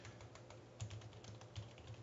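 Soft, quick keystrokes on a computer keyboard, a faint run of light clicks at an uneven typing rhythm with no talking.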